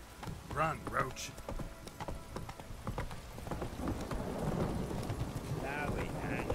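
Roach, a horse in The Witcher 3, gallops along with steady clip-clop hoofbeats at middle distance under game music and ambient noise, with speech heard over parts of it.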